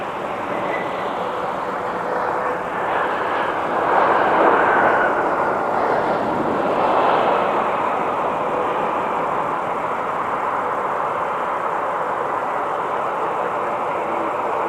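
Sun Country airliner arriving and touching down at MSP airport in winter, a broad steady jet roar that swells around the middle of the approach and then holds at a constant, fairly loud level.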